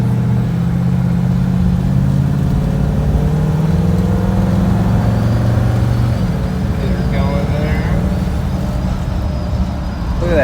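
A 1957 Ford Fairlane rolls over bumps with a steady, loud low engine and road rumble throughout, while a person talks over it.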